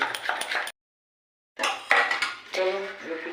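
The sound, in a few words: covering a cooking pan with its lid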